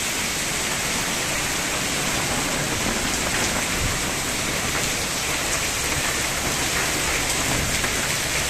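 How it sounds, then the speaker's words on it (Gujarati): Heavy rain comes down in a steady, loud wash of drops drumming on surfaces nearby, a broad unbroken hiss that neither builds nor fades, with no one speaking. "જોરદાર વરસાદનું આગમન થઈ ગયું."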